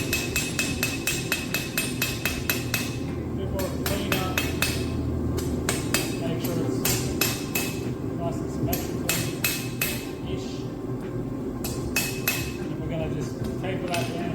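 A hammer strikes hot steel on an anvil, forging a hook onto a fire poker. Close, loud, ringing blows fall in quick rhythmic runs, broken by short pauses.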